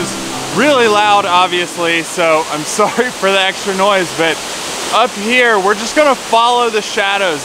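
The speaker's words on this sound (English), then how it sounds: "So the waterfall is really loud, obviously" A big cascading waterfall in Southern Tennessee roars as a steady wash of noise beneath someone talking continuously up close.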